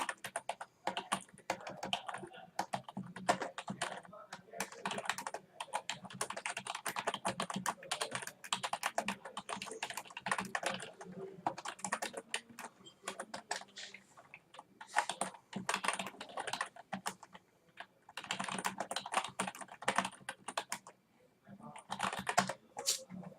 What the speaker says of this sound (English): I'm typing because this is not.